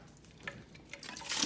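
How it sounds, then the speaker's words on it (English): Canned sliced carrots and their liquid pour into a colander, a soft watery splash and trickle that starts faint and swells louder toward the end, heard close up. "So we're going to pour that in our colander"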